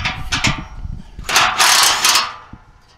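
A ratchet works loose a 15 mm bolt on a 7.3 L 2020 Super Duty exhaust, giving close, loud bursts of clicking and scraping in uneven spurts, with a short knock near the end.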